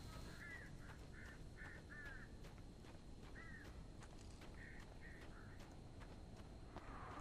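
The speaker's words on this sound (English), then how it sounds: "Crows, birds." Crows cawing in the video game Alan Wake Remastered: a series of short harsh calls in clusters over a steady rain-like hiss, moderately distant and fairly faint.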